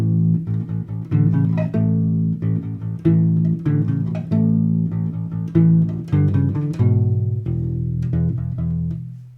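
A U-bass plays measures 14 to 17 of a main theme, a run of deep, rubbery plucked notes in a steady rhythm, close and clear with no talking.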